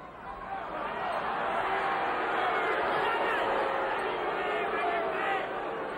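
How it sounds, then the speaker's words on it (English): Boxing arena crowd at a heavyweight bout growing restless, a sustained loud murmur of voices and scattered shouts filling the hall, steady throughout with a commentator talking. "Crowd getting a little tired of that."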